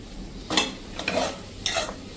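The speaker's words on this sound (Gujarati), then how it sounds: "આ ગરમ છે ને એમાં જ આપણે જે ડ્રાયફ્રૂટનો પાવડર બનાવ્યો છે ને એ નાખી દેશું અને એને આપણે મિક્સ કરી લેશું" Dry fruit powder stirred by hand into hot sukhdi mixture in a pan, three distinct scraping stirs with soft sizzle between them, close and alone with no talking.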